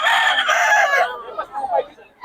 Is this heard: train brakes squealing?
no